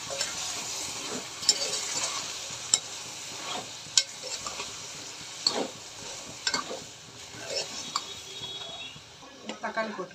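Ingredients sautéing in a pan for a Tamil-style mutton curry, with a steady close sizzle broken by repeated scraping and clinking stirs of a utensil.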